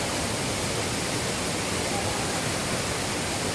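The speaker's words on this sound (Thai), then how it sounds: "นี่ครับน้ำตก" A waterfall in Songkhla pours steadily, a dense, even hiss of falling water close by that holds unchanged throughout, with no other sounds over it.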